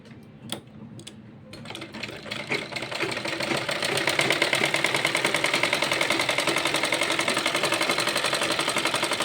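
A sewing machine stitches a small child's kurta, starting with a few isolated clicks, then speeding into a steady rapid mechanical ticking chatter that grows louder and runs on without pause.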